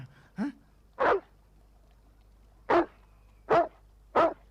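Five short, sharp dog barks spaced irregularly, fairly close, with a quiet background between them.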